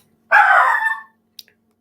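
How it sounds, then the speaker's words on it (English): A single dog bark rings out close and loud, a drawn-out woof followed by a brief faint click, otherwise quiet. "That's my dog."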